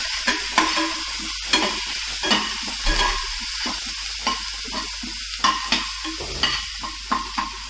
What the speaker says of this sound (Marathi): हे चांगलं परतायचं आहे.